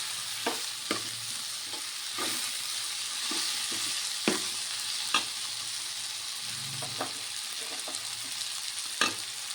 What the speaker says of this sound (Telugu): ఇది వేగుతుందండి. వంకాయ గట్టనే బాగానే మగ్గుతుంది.